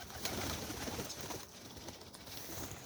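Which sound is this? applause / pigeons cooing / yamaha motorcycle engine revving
pigeons cooing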